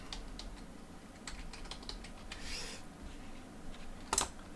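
Fingers type a short word on a computer keyboard: faint, close, irregular light key clicks in a quiet room, ending with one sharper tap.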